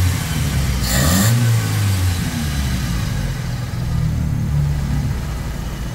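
A Toyota 2E engine runs steadily after a carburetor overhaul, a close, loud continuous hum with a brief rev near the start before settling into an even run.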